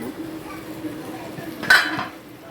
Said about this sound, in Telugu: ఇరవై నిమిషాల తర్వాత మూత తీసిన